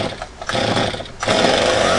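A Stihl 025 chainsaw cranks with sputtering pulls, then catches and settles into a loud, steady engine roar up close.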